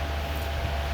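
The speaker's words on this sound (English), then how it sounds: "I apologize about the fan background noise." Constant low whirring fan noise with a steady hum and airy hiss, running on its own without speech.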